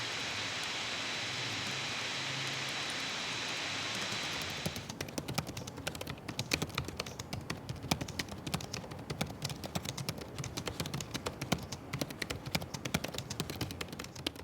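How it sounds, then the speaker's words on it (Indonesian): Fingers type on the keyboard of an Acer Nitro 5 AN515-57 gaming laptop, a rapid stream of light, close clicks and taps following several seconds of steady hiss. "bisa coba kasih contoh suara feedback dari keyboard Acer Nitro 5"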